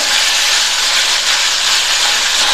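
Tomato and onion sautéing in hot oil in a pan for a potato gravy, giving off a loud, steady, close sizzling hiss throughout, with no talking.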